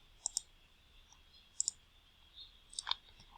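Computer mouse clicks in a quiet room: two quick paired clicks near the start, another pair mid-clip and a last cluster near the end, crisp and close with near silence between.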